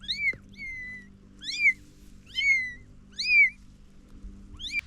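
A mother cat gives a series of five or six short, high meows at a steady pace indoors, each call distinct and fairly close, with a faint low hum underneath and no talking.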